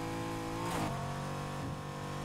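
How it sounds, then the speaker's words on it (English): Exhaust of a yellow Mercedes-AMG GT R in the Need for Speed Heat racing game, a steady loud engine drone with a brief rising rev swell near the middle and a smaller one later, no talk. "oh yeah, that exhaust sounds way better"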